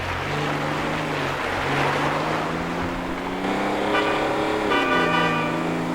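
An old Toyota Land Cruiser driving through the hills in GTA 5: a steady engine drone rising and falling in pitch as it accelerates and shifts, loud and close, with no talk over it.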